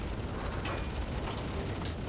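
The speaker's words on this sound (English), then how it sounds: "the explosion is pretty much the size of my ship, so what a splash" A bomb bursts beside a destroyer in the World of Warships naval game, giving a dense rumbling blast and a roaring splash that wash through the whole stretch, with brief crackling peaks and no voices.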